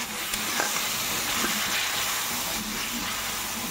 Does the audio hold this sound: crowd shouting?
no